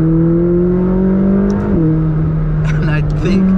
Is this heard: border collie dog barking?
no